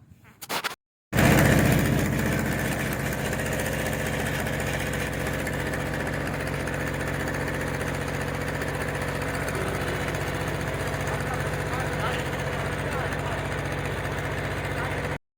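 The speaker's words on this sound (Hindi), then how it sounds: "भाई जो है फिर से इंजन स्टार्ट कर रहे हैं" A small river boat's engine at Head Punjnad is started again, catching after a brief sputter and then running loud, close and steady at a rough idle for more than ten seconds.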